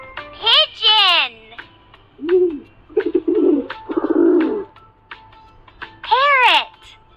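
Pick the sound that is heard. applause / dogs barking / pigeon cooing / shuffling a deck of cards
pigeon cooing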